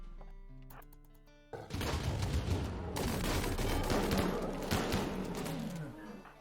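Turret gunfire in the colony-survival game Rimworld: after a few musical tones, a dense burst of rapid automatic shots erupts, continuing loud and rattling for several seconds before tapering off.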